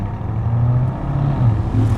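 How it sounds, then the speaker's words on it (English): Exhaust of a Lamborghini Urus S, a low steady burbling drone heard from inside the moving SUV, with slight wavering in pitch and no speech over it. "the exhaust on this thing sounds so good"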